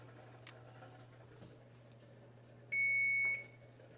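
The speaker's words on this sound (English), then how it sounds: "All right, timer's off." Kitchen timer going off while maple syrup for popcorn cooks on the stove, a single sharp electronic beep lasting under a second over a quiet kitchen hum.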